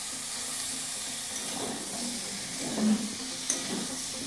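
Chopped tomatoes stirred into potatoes frying in oil for a potato and tomato curry: a soft, steady sizzle with faint scraping strokes of a spoon, fairly quiet and close, with no talk.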